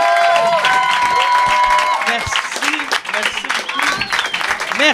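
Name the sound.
audience applause welcoming guests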